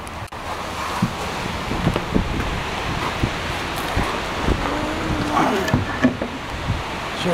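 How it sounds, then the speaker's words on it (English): Gusty wind of about 12 to 17 miles per hour buffets the microphone in uneven bursts, with rustling and rumbling underneath, loud and close throughout. "there's a 12-mile-an-hour wind gust right there"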